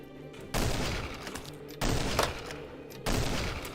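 Fully automatic Scar fire rips out in three sustained dense bursts in the video game Cutwright: Full Auto, loud and close, each burst starting abruptly and running over a second before cutting off.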